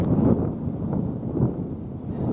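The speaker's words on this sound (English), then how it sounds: "Yeah, it's pretty damn windy." Strong wind gusts across an open outdoor area on California public land during a turkey hunt, a steady low roar with louder surges near the start and middle, no voices.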